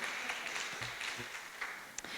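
Audience at a mayoral budget town hall meeting in Riverside applauding, a faint, thin smattering of clapping from a smallish crowd.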